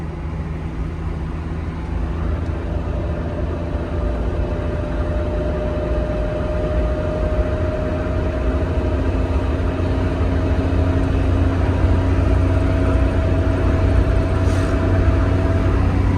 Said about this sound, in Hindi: अरे 100 पे गाड़ी पहुंच गई है।